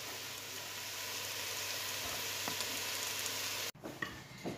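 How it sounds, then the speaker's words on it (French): Onions with olive oil and sugar stewing slowly in a pot on very low heat, a soft, steady close sizzle that cuts off abruptly near the end, followed by a few faint clicks. "j'ai mis mes oignons, mon huile d'olive, mon sucre et là, je vais laisser compoter pendant 20 minutes à feu très doux"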